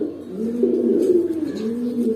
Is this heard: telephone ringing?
no